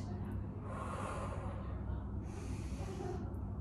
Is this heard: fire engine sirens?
no